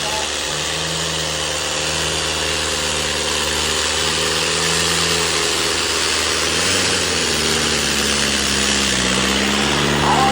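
A loud, steady diesel engine of a Mahindra 575 tractor drones close by at a trolley-pulling contest, its low rumble shifting slightly in pitch as it runs on without pause.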